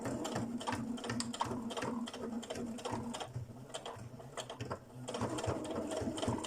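A sewing machine topstitches a fabric belt loop with decorative stitching, a steady close whirring rattle of needle strokes running continuously throughout.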